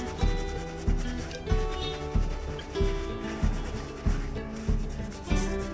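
Hands massage and scrub a wet scalp during a natural hair wash, making rhythmic squelching rubs that repeat about once a second, close and fairly soft, with no talking.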